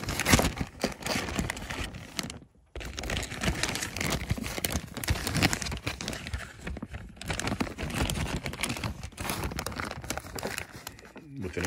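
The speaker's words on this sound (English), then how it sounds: "you can put it inside of a plastic bag" Plastic bag crinkling and rustling continues throughout, with occasional louder crunches and brief pauses, while a person talks over it during a rain barrel plumbing installation.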